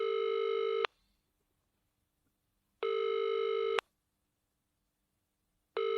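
Telephone ringing before a phone interview, two long electronic rings plus the start of a third, each close and loud with silence between, no talk.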